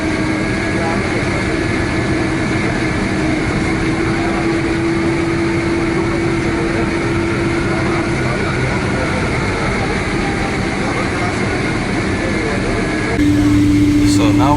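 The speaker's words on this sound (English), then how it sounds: "So now we're taxiing all the way down to the runway threshold" Inside the cabin of an Uzbekistan Airways Boeing 767-300 taxiing to the runway, a steady, loud engine and air-conditioning drone rumbles on throughout, with a faint tonal hum and a voice talking over it.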